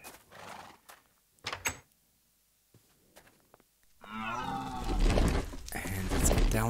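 Horse in the Minecraft game world, brief animal calls and snorts early on, then a long loud stretch of harsh, throaty whinnying and neighing from about four seconds onward.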